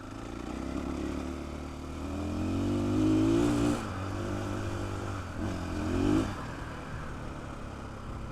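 A KTM 500 motorcycle engine runs steadily while being ridden, its drone swelling into two louder revving surges before settling back, with no talking over it.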